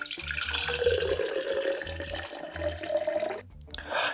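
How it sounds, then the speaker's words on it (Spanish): Mai Tai cocktail poured from a shaker into a tiki glass, a steady liquid stream running for a few seconds with ice rattling faintly, then a brief pause and a last splash. "Serviremos el cóctel en este vaso tiki"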